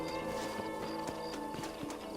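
Horse hooves clip-clopping in Red Dead Redemption, a steady rhythmic trot of regular thuds at moderate distance over a constant background bed, with no talking.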